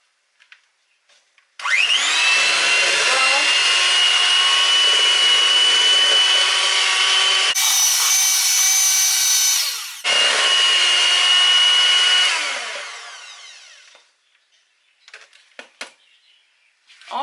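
Electric hand mixer whirring steadily through sorrel and beetroot fruit cake batter as eggs are added, a loud continuous motor drone with a brief change in pitch midway before it winds down and stops.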